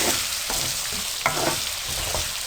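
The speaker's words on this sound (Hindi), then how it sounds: "मैंने तकरीबन 8 मिनट आलू को फ्राई किया है इस तरह से।" Potatoes fry in a pan with a loud, continuous close sizzle, broken by a few soft stirring scrapes.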